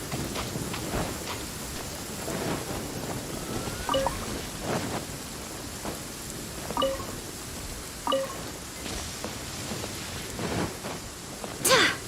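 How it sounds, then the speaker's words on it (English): Rain falls steadily in the video game Genshin Impact, a continuous patter with a few soft low rumbles of thunder, and a sharper crackle near the end. "The rain won't slow me down."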